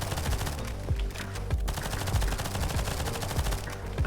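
Submachine gun in the NIMRODS horde survival shooter firing rapid sustained bursts, loud and dense with overlapping shots and a steady stream of crackling reports throughout.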